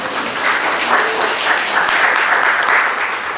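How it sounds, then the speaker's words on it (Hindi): A church congregation claps together in sustained, dense applause that holds steady throughout at a fairly loud level, with no clear talking over it. "इन बहन के लिए ताली बजाएं सारी।"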